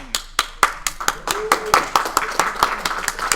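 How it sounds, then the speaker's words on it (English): A small audience at a lightning-talks meetup claps in a sparse, rhythmic pattern, distinct individual claps spaced out like a few people clapping nearby, with a voice briefly heard. "You just wanted a second applause, didn't you?"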